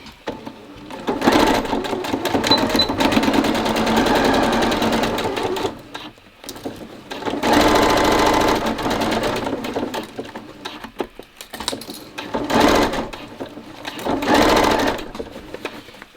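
A sewing machine stitches a line along a fabric face mask, loud close whirring runs of a few seconds each separated by short pauses, with no talk.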